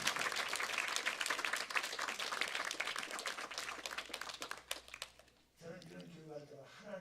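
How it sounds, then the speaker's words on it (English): A lecture audience applauds the interpreters with dense, steady clapping that grows choppier and breaks off near the end, after which a voice begins speaking. "So please give some applause to the people who are doing the interpreting"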